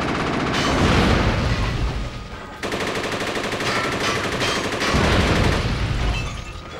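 Dual Uzis fire in the video game Jet Li Rise to Honor, loud rapid bursts of automatic gunfire that crackle in dense runs with short breaks between volleys.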